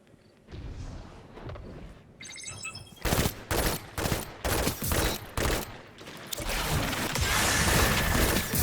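The Glacialchasm fusion rifle in a competitive PvP video game match charges up with a rising hum, then fires a rapid series of heavy, crackling energy bursts in a steady rhythm, followed by a sustained roaring wash of impact noise.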